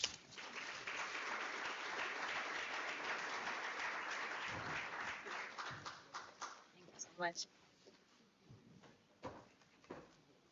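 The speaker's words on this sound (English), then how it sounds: "Let's give him another round of applause." A town hall audience at a G20 community engagement launch gives sustained applause that thins out and fades, while a few voices and scattered claps carry on afterward.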